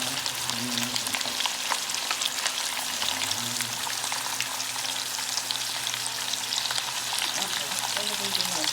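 Pork frying in a pan, a dense, steady sizzle with occasional stirring, heard up close and continuous throughout with no one speaking.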